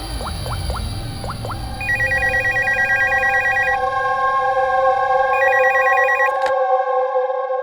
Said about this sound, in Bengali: স্যার, স্টোর ম্যানেজারকে ফোন করছি।